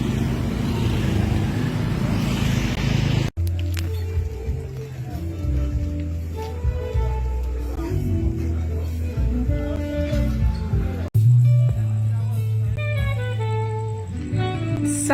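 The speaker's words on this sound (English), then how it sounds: "It's 8 o'clock at night and you can see that the street is still busy with cars and motorbikes" Busy evening street traffic near Tanjung Benoa, Bali, with cars and motorbikes passing: a steady engine rumble and revving swells and fades close by, with brief breaks, and a faint voice now and then.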